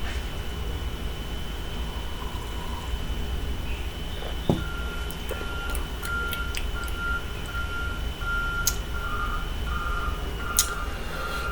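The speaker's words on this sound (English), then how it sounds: "I was going to pause it because of the trash truck, but they stopped" A garbage truck backing up outside, its reversing beeps sounding as faint repeated electronic tones over steady background noise, distant and with no talk.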